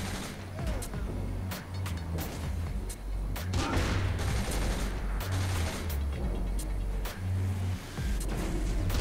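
Friendly AI gunfire in Saints Row 3 horde mode: rapid sharp shots in scattered bursts and volleys over a steady engine-like rumble, fairly close and continuous.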